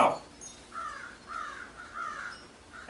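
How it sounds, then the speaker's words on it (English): Several crows caw outside in a yard, four evenly spaced calls at moderate distance against a quiet background. "There's a lot of crows out there."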